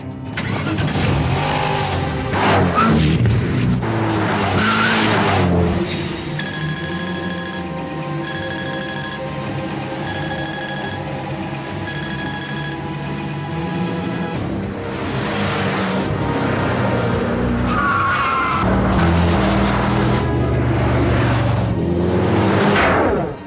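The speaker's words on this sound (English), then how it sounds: "A hand-built, two-seater, mid-engine German supercar. Built for speed." Gumpert Apollo, a hand-built two-seater German mid-engine supercar, heard as a loud engine note that swells and settles with tonal whines over a sustained mechanical drone, no talking.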